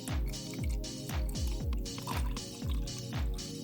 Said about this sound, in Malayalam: ഇതിലേക്ക് നമുക്ക് വാട്ടർ ഫില്ല് ചെയ്യാം.